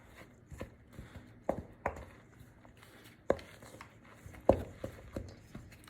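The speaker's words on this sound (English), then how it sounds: "you're just going to mix the pumpkin and the spice cake mix together" Pumpkin and spice cake mix being stirred together in a bowl for pumpkin chocolate chip cookies, heard as soft irregular thuds and scrapes of the spoon, close and quiet with no talking.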